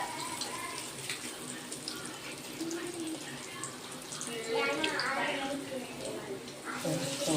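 Spinach vadai patties frying in hot oil, a soft, continuous sizzle and bubbling hiss that rises slightly toward the end.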